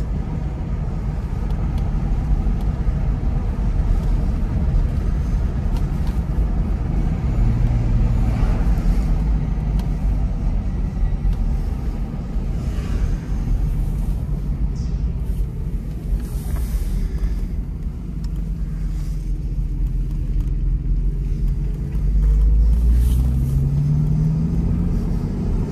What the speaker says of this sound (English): I'm going to take you on a quick little test drive of this 1986 Jaguar XJSC. Just to show you how it drives, how it shifts, how it brakes.